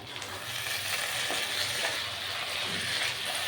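Ghee sizzles and fries steadily in a cooking pot with garam masala, a continuous close crackling hiss with small pops, and no talking over it.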